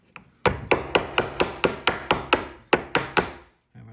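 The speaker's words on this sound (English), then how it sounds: "Hammer this down." Steady hammer blows strike a Ford door lock part, about a dozen sharp metallic taps in an even rhythm with a short pause partway, close and clear with no talk.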